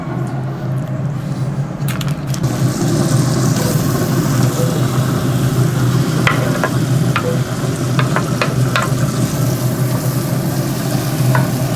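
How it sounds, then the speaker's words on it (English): Onions frying in butter on a Pit Boss Navigator 850 griddle set to maximum heat, a loud, dense sizzle over a low outdoor rumble, with scattered spatula clicks toward the end and no voices. "I set the temperature of the Navigator at the maximum to cook the onions"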